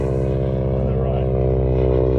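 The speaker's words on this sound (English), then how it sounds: "There's a spray plane going over, delivering rescue chemistry to farmers" A crop-spraying plane passes overhead, its propeller engine giving a loud, steady, droning buzz with a strong low hum throughout.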